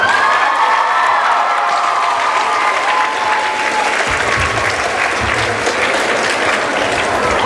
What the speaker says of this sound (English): Can we get another round of applause for Sean, please, everybody?